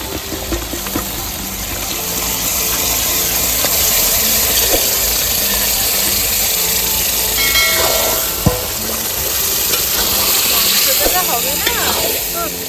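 Duck meat sizzles in oil with spices, turmeric and green chilies, a loud, continuous frying hiss that lasts throughout, with an occasional sharp pop.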